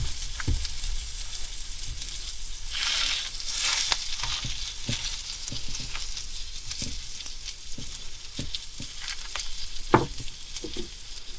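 Food from a food pantry haul frying in a pan until golden brown, a steady close sizzle with crackles and occasional stirring clicks and clatters throughout.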